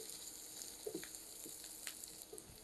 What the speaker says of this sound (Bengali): পেঁয়াজ আর রসুনের কালারটা চেঞ্জ হওয়া পর্যন্ত একটু ভেজে নিলাম